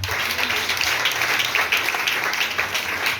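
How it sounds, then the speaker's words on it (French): Church congregation applauding during a Sunday worship service, a steady dense wash of clapping filling the whole stretch with no clear break. "Acclame Jésus."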